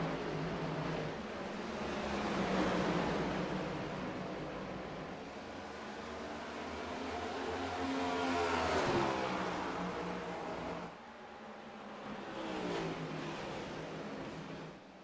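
Race cars at Iowa during a broadcast of the final race of 2021, engines roaring and sweeping past in waves as a distant pack, fairly faint, with no talk.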